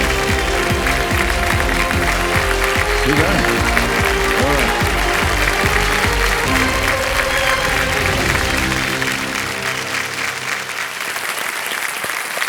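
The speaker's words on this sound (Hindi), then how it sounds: "तालियां बजती रहें इनके लिए।" Studio audience applause for a winning contestant on the KBC India quiz show, a loud, dense sustained clapping over about eleven seconds with music underneath, then fading and thinning near the end as a voice speaks.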